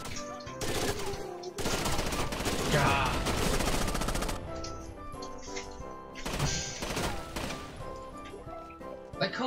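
Dense, sustained gunfire and explosions in a Rainbow Six Vegas 2 Terrorist Hunt match, loud automatic bursts crashing almost continuously with brief lulls, a voice faintly present underneath.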